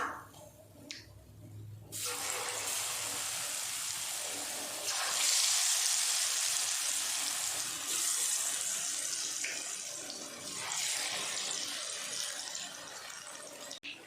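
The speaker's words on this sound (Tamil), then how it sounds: "இதே மாதிரி எல்லாத்தையும் பொரிச்சு எடுத்துக்கலாம்." Cauliflower bajji deep frying in hot oil makes a loud, continuous bubbling hiss that holds steady, with a brief quieter moment at the start.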